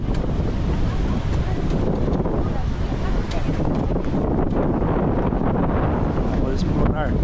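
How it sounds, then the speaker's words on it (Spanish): Steady sea breeze on the Uruguayan coast buffets the microphone in a continuous loud roar, with the wash of surf blended underneath throughout. "curtir a brisa do mar aqui no Uruguai, na costa uruguaia"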